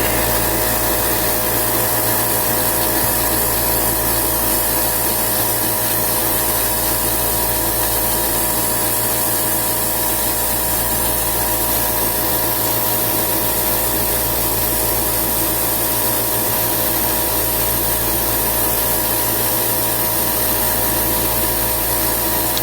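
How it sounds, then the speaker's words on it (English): A loud air compressor runs continuously while an airbrush sprays paint on a 1/144 HG Zaku Gundam model kit, a dense, steady roar with a pulsing low hum, close and unbroken throughout. "I know this is one part of the video not too many people like to watch because of how loud my compressor is"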